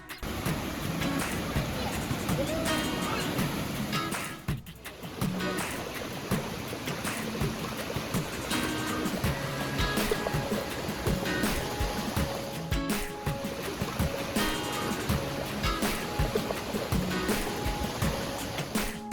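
Flume Brook rushes steadily through a narrow granite gorge, a continuous broadband roar of falling water with no talking heard.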